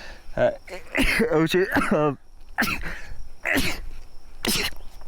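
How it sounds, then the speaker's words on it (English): Several sneezes come in quick succession up close, mixed with breathy vocal sounds and short bursts of speech. "I'm not gonna cut that out because that is how I sneeze"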